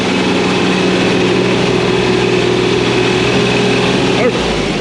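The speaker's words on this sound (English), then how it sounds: "Put the little tractor here." A small tractor's engine runs steadily at a constant drone, loud and close, with wind noise in the background and no break in the sound.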